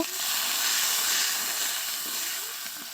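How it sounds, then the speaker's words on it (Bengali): Steady hiss and sizzle of soybean chunks in a pan as a splash of water hits the hot oil, a continuous broad spray of steam throughout with no talking. "এর ভিতরে অল্প পরিমাণ জল দিয়ে এটাকে আবারও কষিয়ে নেব"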